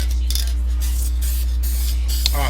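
Bursts of hissing spray, several short presses in a row over a steady low hum, close by.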